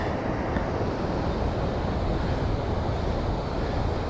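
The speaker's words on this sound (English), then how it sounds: "Let's take another look out to the ocean, see how beautiful it is out today." Ocean surf at a state park beach, a steady loud wash of breaking waves mixed with wind buffeting the microphone, continuous and close with no voices.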